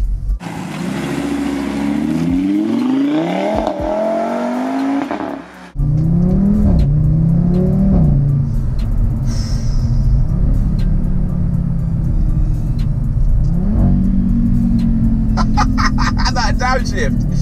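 Loud revving from an Audi RS3 engine rises and falls through downshifts and acceleration, with a sharp break midway, then a sustained engine drone as a voice comes in near the end.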